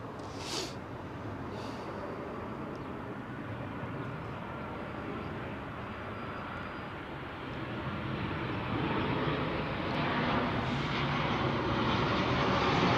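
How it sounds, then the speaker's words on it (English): A Boeing 737 airliner at Heathrow's runway 27L, a broad distant engine roar that builds steadily louder, with no talking. "He's a little 737, isn't he?"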